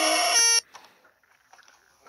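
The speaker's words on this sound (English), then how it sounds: "what's that beep?" A single loud electronic beep, a harmonic-rich tone lasting about half a second, followed by near silence with faint background sounds.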